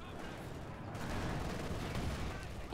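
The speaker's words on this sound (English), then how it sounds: "Pioneers moving up close and are getting gunned down." Gunfire in a Company of Heroes 2 match, with Pioneer infantry advancing close and being cut down: a dense, distant-sounding crackle of small-arms shots rolling on steadily beneath a busy battlefield din.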